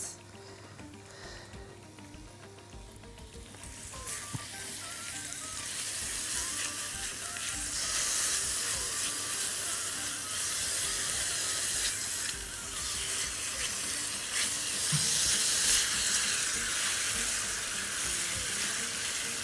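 Chicken gizzards fry in a hot pan with a loud, steady sizzle that swells and stays dense throughout, nearby and with no talking.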